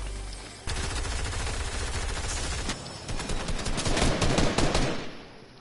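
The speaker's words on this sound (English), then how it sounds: "I got a shotgun." Rapid gunfire from a shotgun in a video game, a dense run of loud close shots after a quiet start, with a heavier burst of blasts toward the end.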